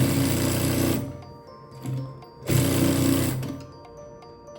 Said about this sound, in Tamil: ஒரு மேல் தையல் ஒன்று போடணும்.